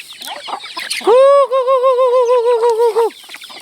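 A chicken lets out a loud, drawn-out warbling call up close, surrounded by shorter clucks before and after.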